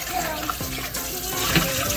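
Oxtail being rinsed in a sink of plain water from a running tap, with steady splashing and trickling throughout, close and moderately loud.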